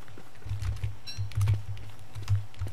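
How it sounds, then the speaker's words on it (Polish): Computer keyboard typing while playing Don't Starve: Shipwrecked, irregular bursts of soft clicking keystrokes close by, with occasional louder taps and a faint low hum underneath. "I możecie też słyszeć klawiaturę"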